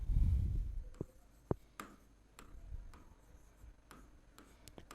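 Chalk or marker taps and scrapes across a board in short, irregular strokes, with a handful of crisp clicks spaced over a few seconds and a soft low rustle at the start, quiet and close.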